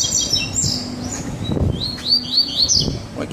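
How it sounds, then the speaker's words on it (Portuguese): A double-collared seedeater sings nearby, a run of quick, high, sweet chirping notes and short trills over faint background noise. "Voltar a cantar, passarinho"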